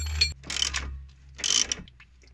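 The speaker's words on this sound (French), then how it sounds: "Il me faut la clé plate." A flat wrench works a bolt on the torsion bar of a car's suspension during a coilover install, giving two close bursts of rapid metallic clicking and rattling separated by a short pause.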